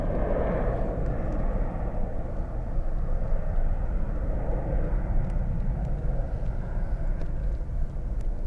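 An airliner takes off from Zurich airport bound for Florence, its jet engines a steady, loud, broad rumble and roar that holds throughout with no voices.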